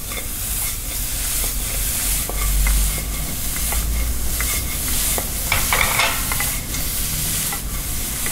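Smelt stir-fries with scallion and chili pepper, with loud continuous sizzling and repeated scraping and tossing of a spatula in the pan, up close and without speech.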